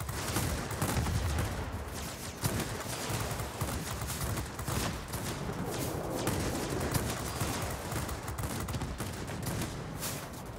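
Heavy fire from two 40mm Rolls-Royce cannons in a warplane video game pounds without pause, dense overlapping booms and crackling bursts forming a loud, continuous barrage with no talking.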